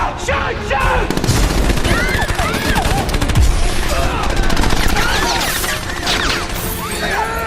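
Dense, continuous gunfire in an action-film attack scene fills the whole stretch, with rapid overlapping shots, glass shattering and crashes under shouted voices.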